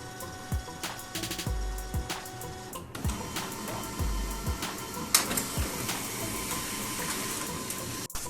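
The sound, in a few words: printer scanning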